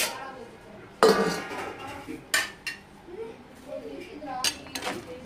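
A metal lid clanks onto a cooking pot of village-style mushroom curry over a medium flame, with one sharp clatter followed by lighter clinks and scrapes of pots and utensils nearby.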